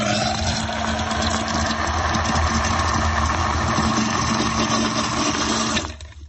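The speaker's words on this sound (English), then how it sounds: "You're draining that big utility tub in the basement." A big utility tub drains in a basement with a loud, steady rushing drone that holds evenly, then cuts off abruptly near the end, leaving a quiet tail.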